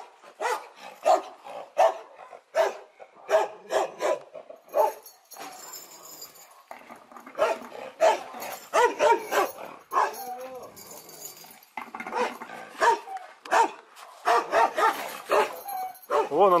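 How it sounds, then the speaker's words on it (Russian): A guard dog barks in repeated bursts of sharp barks with short gaps, fairly close and loud, in a village yard, with people talking between and over the barking. "Собачка-охранник."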